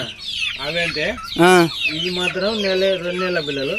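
Two- to three-month-old fighting rooster chicks cluck and squawk in quick, repeated calls close by, one louder cry rising sharply in the middle, with no voices heard.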